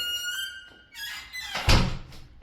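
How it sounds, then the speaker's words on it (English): An apartment door in Plovdiv, Bulgaria creaks open with a long, high squeal that rises and wavers, followed by a louder thump of the door swinging or settling, close by and with no talking. "Excuse the squeaky door."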